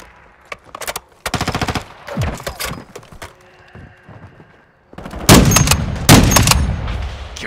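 Gunfire from the Call of Duty: Modern Warfare II video game, several sharp rapid-fire automatic bursts separated by brief pauses, loud and close, the last bursts the heaviest.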